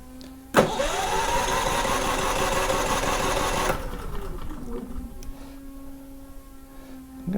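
A Firman generator engine catches abruptly and roars loudly for a few seconds, then settles into a quieter, steady running hum with a faint tonal whine.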